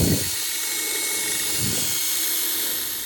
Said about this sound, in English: I'm just gonna plug it into the drill and get those holes drilled out